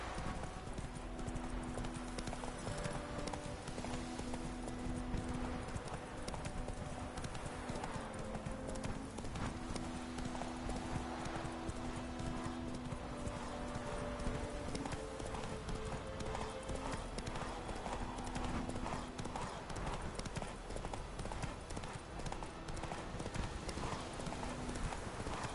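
Roach the horse galloping in The Witcher 3, a steady rapid clip-clop of hooves that runs on and on at moderate volume, with faint speech now and then beneath the hoofbeats.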